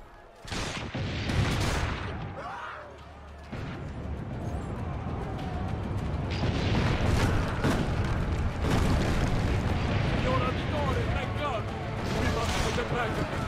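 Cannon fire and explosions in Assassin's Creed II, heavy booms and rumbling blasts repeating through the stretch, layered under game voices and a speaking player.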